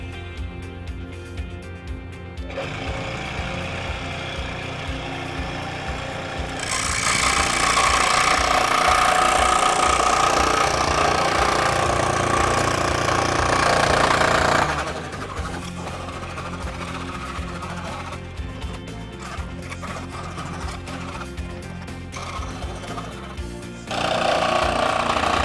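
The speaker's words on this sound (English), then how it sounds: "And now we go to the jigsaw." A jigsaw cuts a wooden bear shape, its motor buzzing steadily and loud, rising to a harsher, louder whine in the middle stretch and again near the end, with no talk.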